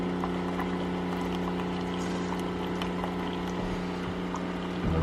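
A coffee machine runs with a continuous loud mechanical drone and whirring hum, steady throughout with faint clicks and no voices.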